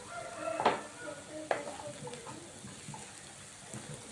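Onions fry with turmeric for egg curry, a faint soft sizzle with a couple of sharper stirring scrapes near the start, quiet and close throughout.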